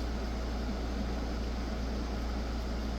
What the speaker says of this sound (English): you can hear that inverter in the background pretty loud.